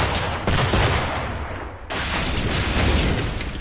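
Fire barrels launched from a ship in the Assassin's Creed IV Black Flag video game, heard as loud overlapping booming bursts of cannon-like fire, dense and continuous, with a brief gap midway.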